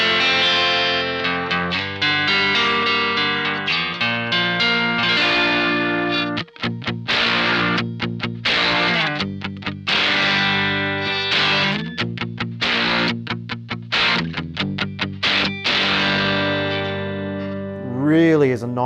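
An electric guitar on its neck pickup runs through a Marshall JTM1 head with a boost and EQ pedal, giving loud, sustained distorted chords and riffs with brief choked gaps and a final wavering, bent note.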